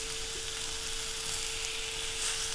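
A chicken breast sizzles in a frying pan as it pan-fries for a grilled-style finish, with steady, even crackle throughout and no voices.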